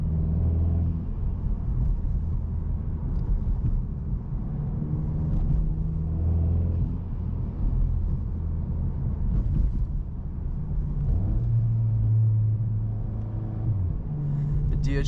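A Volkswagen with an IS38 turbo engine and 7-speed DSG rumbling in sport mode from inside the car, a steady low drone with swelling hums, heard beneath ongoing talk.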